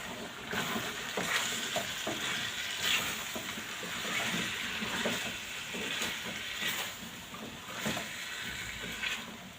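Potatoes fry in a pan for a chicken and potato tray bake, a steady close sizzle with irregular scraping stirs throughout and no voices.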